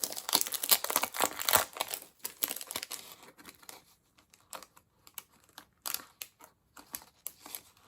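Stickability planner stickers peeled one after another from a sticker sheet, a close, quick run of crinkly paper rustles and soft tearing pops that loosen into sparser bursts with short pauses.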